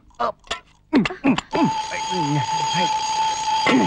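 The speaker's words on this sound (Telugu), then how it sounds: "అప్పుడు అలారం కూసింది" An alarm clock rings loudly and continuously through the second half, a steady unbroken tone that starts after a few short spoken words and keeps going to the end while a voice talks over it.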